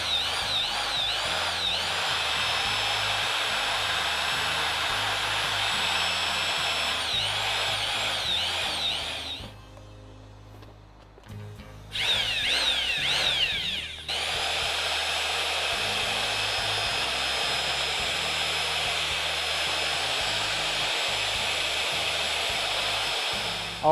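A power drill with a mixing paddle churns Portland cement slurry for a cement catalyst installation, a steady loud whine running continuously, dropping briefly to a lower, rougher pitch midway before returning to full speed.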